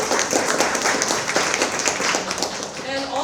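Audience applause at an education summit: a dense, steady clatter of many hands clapping, rising and falling slightly over a few seconds, with a voice speaking briefly near the end.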